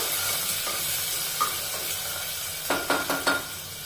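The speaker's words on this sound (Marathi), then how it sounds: "कांदा छान असा ब्राऊन होऊ द्यायचा जास्त नाही करायचा आपल्याला थोडा हलका" Onion frying in a pan with green cardamom until lightly browned, a steady soft sizzle with a few stirring scrapes and clinks of a spoon near the end, close and fairly quiet.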